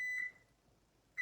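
An oven timer gives two clear electronic beeps, one at the start and one at the end, with near silence between them.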